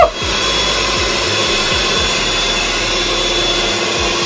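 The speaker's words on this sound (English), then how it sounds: "the next stage is to get whisking, and yes, I know I need to turn it on, Paul." An electric hand whisk runs steadily, beating cake batter in a bowl, with a continuous close motor whir and a few faint knocking taps against the bowl, no talk.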